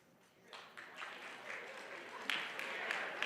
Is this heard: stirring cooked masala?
no